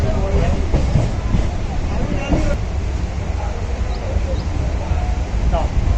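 A passenger train rolls along the rails toward Hasnabad station, a steady loud rumble with faint rhythmic clatter throughout, and voices talk over it at times.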